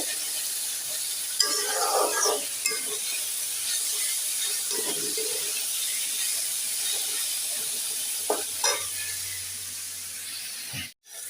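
Bitter gourd curry with onion sizzles and steams in a pan while it is stirred, a steady hiss with scattered scraping stirs, close and fairly loud throughout.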